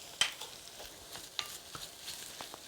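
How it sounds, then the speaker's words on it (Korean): Carrot, onion and celery stir-frying in a pan with garlic, soft sizzling under scattered scrapes and taps of a utensil stirring, quiet and close. "이렇게 당근, 그 다음에 양파와 샐러리를 잘 볶아서 숨이 죽도록 볶아주셔야 돼요."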